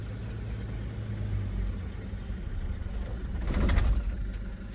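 A Toyota Land Cruiser 75 Series diesel idles with a low steady rumble, then after a brief swell the engine is cut off with its fuel-shutoff lever and the sound fades out.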